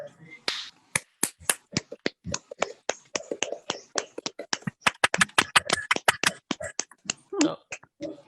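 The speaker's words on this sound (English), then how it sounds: "everybody give a big round of applause to all our guests tonight" A small live podcast audience applauds its guests with crisp, uneven hand claps that run steadily without building to a roar.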